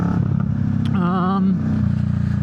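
A Kawasaki Vulcan S motorcycle rumbles steadily at low revs on its final ride, the engine note rising and falling briefly mid-way, close and loud throughout.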